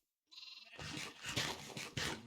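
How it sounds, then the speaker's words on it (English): A sheep in Minecraft gives a single wavering bleat that fades in after a short silence, heard clearly and alone at moderate volume. "Sheep."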